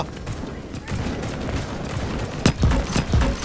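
Gunfire in the sci-fi shooter Starship Troopers: Extermination, a few sharp bursts near the end over a steady background of game noise, with a voice talking faintly underneath.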